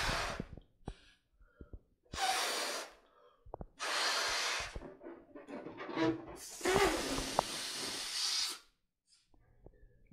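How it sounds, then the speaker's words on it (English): Person blowing up a balloon by mouth for a DIY hovercraft, with several long, breathy puffs of air separated by pauses and soft intakes of breath, close and fairly quiet. "It's a good idea to actually inflate the balloon ahead of time before you use it."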